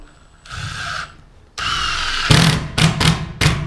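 A power tool drives fasteners through AdvanTech subfloor into garage floor joists, with several loud, close whirring bursts of varying length separated by short pauses and ending in quick repeated pulses.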